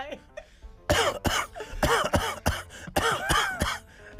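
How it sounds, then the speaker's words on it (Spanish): A person coughs into their elbow, a quick run of about seven loud, close, harsh coughs with voiced throat sounds between them. "O sea, tose, pero no estornuda."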